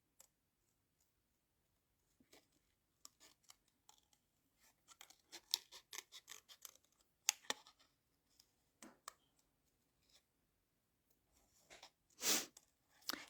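Scissors cut out paper words for a Stampin' Up fun fold card, with sparse, quiet snips and clicks in irregular bursts against near silence.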